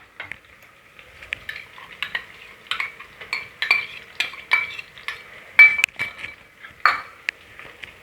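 A spoon stirs onions and green chillies frying in a pan for chicken biryani, making irregular metallic clinks and scrapes over a faint, soft sizzle close by.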